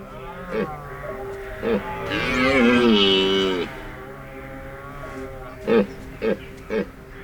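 Red deer stags bellowing during the autumn rut in a mountain forest, one long drawn-out roar followed by several shorter grunting calls at a moderate distance, with quieter stretches between them.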